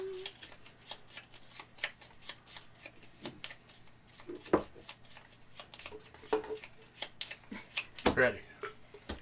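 Playing cards are shuffled for a Gloomhaven tabletop game, with a long run of crisp riffling and snapping bursts at an irregular rhythm, close by, while players talk quietly throughout.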